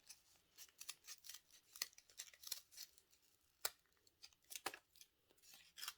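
Scissors cutting paper petals for paper flowers: quiet, close, irregular crisp snips and shearing strokes follow one another with brief pauses, no talking.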